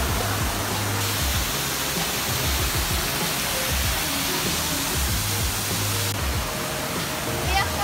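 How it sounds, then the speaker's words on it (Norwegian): A large waterfall in Spain roars with a dense, steady rushing wash that stays loud and unbroken from start to finish. "Nå skal vi ut til et stort fossefall da."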